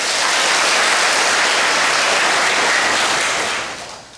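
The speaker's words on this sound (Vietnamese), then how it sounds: "Quá giỏi, cho một tràng pháo tay." An audience breaks into a dense, sustained burst of clapping at a talk, loud and even throughout before tapering off at the end, with no voices over it.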